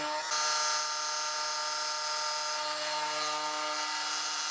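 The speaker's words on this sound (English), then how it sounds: "when I was machining the vice jaws." A CNC mill machining vice jaws, giving a steady, continuous high-pitched whine with layered harmonic tones that holds at an even loudness throughout.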